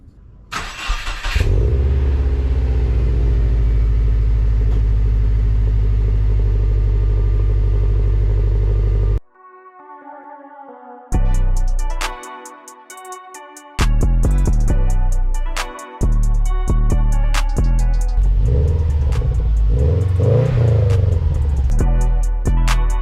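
A 2011 Subaru WRX engine hums steadily for several seconds, then cuts out and gives way to scattered clunks and bursts of rumbling noise.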